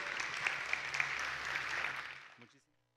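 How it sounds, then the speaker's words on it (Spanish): A church congregation breaks into applause to welcome a pastor, a moderately faint spell of clapping lasting about two seconds before fading quickly into silence. "Lo recibimos con un aplauso"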